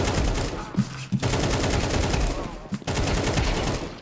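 Gunfire in Counter-Strike 2 crackles in rapid automatic bursts. A couple of short pauses break the loud, close shooting, and no voice is heard.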